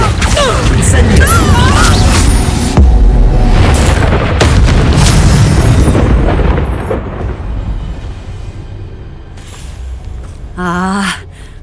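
Loud, rapid spell blasts and booms from Bombarda and Confringo in the Hogwarts Legacy video game, heavy impacts piling up over the first half before fading into lighter magical crackles and a brief shimmering burst near the end.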